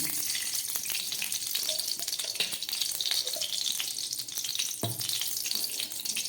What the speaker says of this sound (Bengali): একটা কড়াই বসিয়ে দিয়ে তার মধ্যে দিয়ে দিচ্ছি পরিমাণ মতো ঘি।